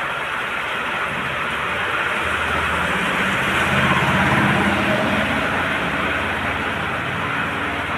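A sudden heavy downpour in a village in Kalahandi during the Ganesh puja festival, heard as a loud, steady, close wash of rain hiss that continues unbroken throughout, with no voices.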